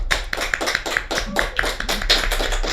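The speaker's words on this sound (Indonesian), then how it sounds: "Tepuk tangan dulu lah teman-teman lah" Rhythmic hand clapping from a small group at a casual hip hop talk-show gathering, steady overlapping claps close by for a few seconds with no talking.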